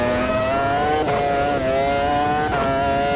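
Race car engine accelerating in the sim racing game Automobilista 2, a loud, raw, continuous howl rising in pitch with two quick gear changes, close and dominant with no talk.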